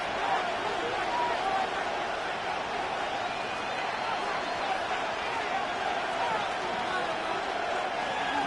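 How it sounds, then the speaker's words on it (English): A football stadium crowd during an Eagles game sends up a continuous, loud wall of cheering and roaring noise that holds steady throughout, with no pauses. "This crowd doing all they can."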